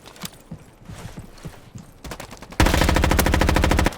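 Rapid automatic gunfire from a large-magazine weapon in a Roblox shooting game. Scattered single shots give way to a loud, sustained burst of fast regular fire at the end.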